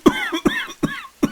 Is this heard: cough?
yes